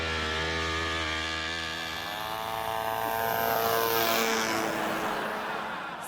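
An airplane takes off, its engine droning loudly with sweeping harmonic tones that rise and shift as it powers up and climbs, steady and close, with no talking.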